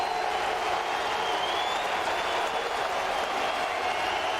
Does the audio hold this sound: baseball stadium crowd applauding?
yes